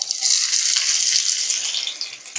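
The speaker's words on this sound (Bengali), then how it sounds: "পেঁয়াজগুলোকে লাল করে ভেজে নেব" Chopped onions frying in hot oil over a cumin tempering, a dense continuous sizzle close and fairly loud, with a faint scrape at the end and no voices.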